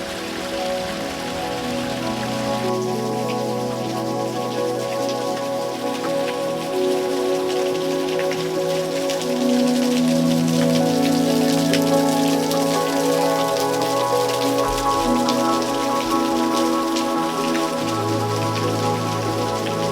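Steady rain falls in a small rocky canyon, a dense continuous patter of drops on surfaces, close and fairly loud throughout, with no voices.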